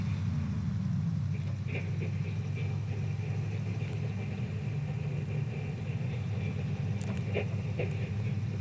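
A truck engine drones steadily on off-road tires in SnowRunner, a low constant rumble heard alone with a few faint knocks and clunks.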